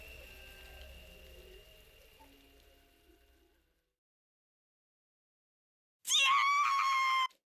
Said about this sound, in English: A sudden cry rang through the night.